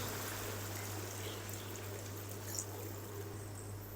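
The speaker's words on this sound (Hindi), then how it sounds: "अब हम इसके अंदर ऐड करेंगे 3 से 4 लीटर पानी" Water, 3 to 4 liters, poured into a pot of browned beef for Karachi-style nihari, giving a steady hiss of flow over a low constant hum, with no talking throughout.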